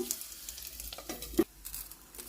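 Green chillies fry in a pan with a soft, scattered sizzle broken by several sharp pops and crackles, one louder burst near the middle, at moderate volume with no talking.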